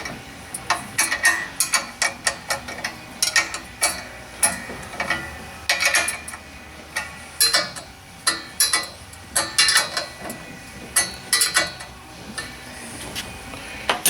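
Ratcheting clicks and metallic ticks come in quick irregular bursts as locking nuts are snugged down to retain the spring on a boom assembly. The work sounds close and fairly loud, with no talking.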